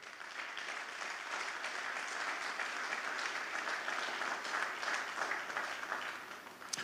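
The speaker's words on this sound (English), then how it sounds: "So I think they deserve an additional round of applause today." A church congregation breaks into sustained applause, a dense, even wash of many hands clapping that holds steady throughout before easing slightly at the end.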